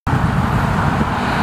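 Heavy road traffic roars past on a busy road near Zelenogorsk, St Petersburg, as a loud, continuous wash of car, bus and truck noise that begins abruptly and holds steady throughout.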